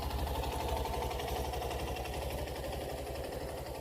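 A stopped vehicle's engine idles steadily on a hill road in the Kalvarayan Hills, a constant low chugging rumble with an even mechanical pulse, close and unbroken, with no talking.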